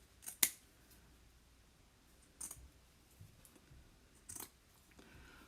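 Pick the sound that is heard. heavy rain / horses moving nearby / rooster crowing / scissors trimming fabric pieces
scissors trimming fabric pieces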